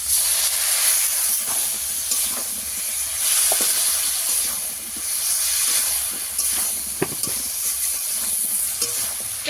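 Ginger paste and spices frying in a pan as a little water goes in, a loud continuous hissing sizzle with occasional scraping stirs and small clinks, close and steady throughout.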